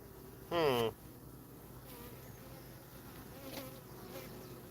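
Honey bee buzzing near a beehive, one brief close buzz that rises and wavers, then fainter passing buzzes over quiet outdoor background.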